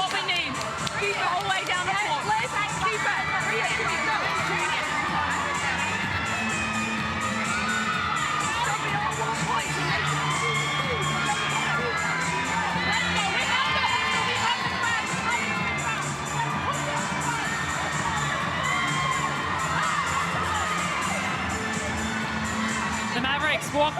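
A home crowd at John Cain Arena cheers and shouts during a Mavericks versus Fever Super Netball match, sustained loud roaring and high whoops rising and falling continuously.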